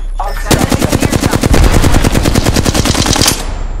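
Automatic weapon fire from Apex Legends: a loud, rapid burst of evenly spaced shots running for about three seconds, close and dominant with no talk over it.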